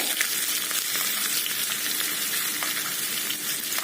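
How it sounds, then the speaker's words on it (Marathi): Tempering spices, chillies, curry leaves and garlic sizzling in hot oil for a tadka, a steady close, bright crackling fry throughout with no talking. "मस्त असा तडका तयार झालेला आहे"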